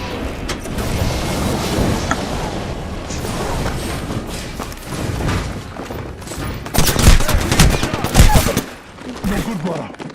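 Dense, continuous gunfire from the battle royale shooter Apex Legends, bursts of automatic weapon fire and booming shots rattling throughout, growing louder and sharper near the end with heavy impacts amid game mechanisms.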